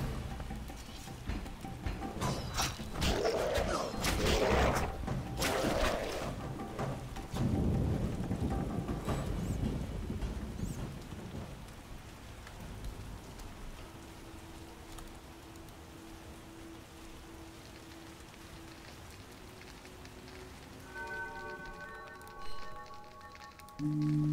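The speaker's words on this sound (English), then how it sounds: "Hopefully this storm lasts until morning, but I doubt it will." A thunderstorm with rain in The Witcher, heavy rolling thunder and steady downpour loud at first, then easing to a softer constant rain as a faint game tone hums beneath.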